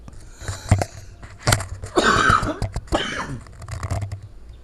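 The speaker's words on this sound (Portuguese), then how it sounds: "Me desculpem porque eu tô com essa tosse." A woman coughs several times in close, harsh bursts, first as single short hacks and then as a longer rasping fit with wheezy breaths between, followed by a few more scattered coughs.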